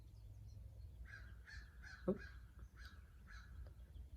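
Crows cawing repeatedly in the distance, about six harsh calls spaced through the clip, with one short exclamation from a nearby voice.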